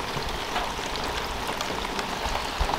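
Steady rain falls on a rainy Saturday by a backyard fire pit, a dense, even hiss of drops spread evenly with no voices.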